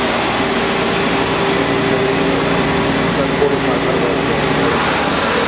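A Citizen A20 CNC lathe runs with its spindles at 4,500 RPM, heard from about four inches away as a loud, steady mechanical whine and hum that holds constant throughout.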